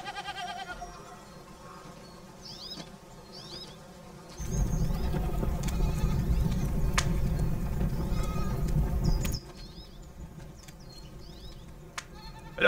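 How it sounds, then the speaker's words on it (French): Goats on a hillside farm bleat repeatedly at a moderate distance. A louder rumbling passage sits in the middle of the stretch, and there is no clear speech. "Personne s'occupe des chèvres,"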